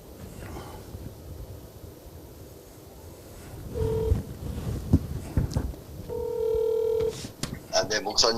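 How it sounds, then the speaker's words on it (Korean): A telephone call is dialed, with two short bursts of electronic dial tones over faint background noise, the second longer than the first, and a voice briefly in between. "그러면 먼저 전화 좀 해보시죠."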